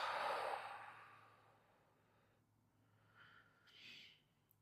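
A long breath released during a Kundalini yoga session: one strong, close exhale that trails off, followed by two softer breaths, with no talking.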